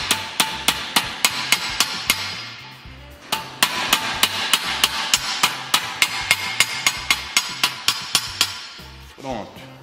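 Sheet metal struck with a hammer on a shrinker/stretcher: steady, sharp, ringing metallic blows about twice a second, one brief pause partway through, fairly loud and close.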